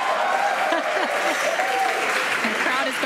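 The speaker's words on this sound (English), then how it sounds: "The crowd is going wild." A large crowd watching a SpaceX Crew-10 launch claps and cheers continuously, a dense, loud wash of applause with voices mixed in throughout.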